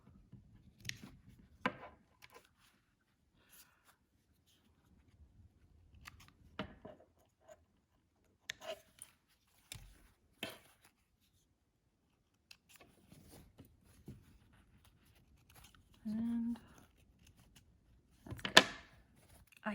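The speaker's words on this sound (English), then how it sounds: "And trim our extra thread off." Scissors snipping excess thread from a handmade fabric face mask, a few sparse quiet cuts and handling noises scattered through near silence.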